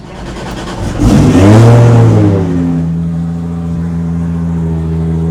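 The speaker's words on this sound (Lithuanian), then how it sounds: "Churba from Lithuania now sits on the line in this BMW G42 2JZ, 900 horsepower" A 900-horsepower BMW G42 drift car with a 2JZ engine revs hard at a drift competition in Riga, a loud rising roar that peaks and then settles into a sustained high engine drone.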